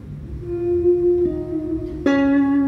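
A few sustained guitar notes form a slow melody, each tone held and sliding, with a brighter, louder note entering near the end.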